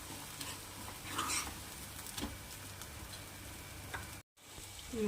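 Black chana masala sizzles steadily in hot oil in a home kitchen pan, a continuous soft frying hiss with a few light stirring clicks and taps, no one speaking.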